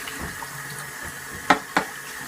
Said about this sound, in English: Basically, I just put water in it, just massage the rice a little bit,